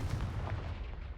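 A Confringo spell explodes in the video game Hogwarts Legacy as one short, muffled, low boom that fades out in about a second.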